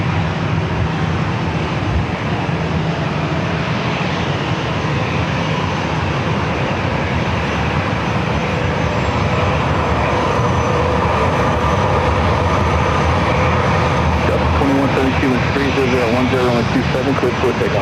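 A Delta A321 jet takes off at San Diego airport, its engines producing a loud, sustained broadband roar that swells and shifts in pitch as the aircraft climbs, with a voice talking over it.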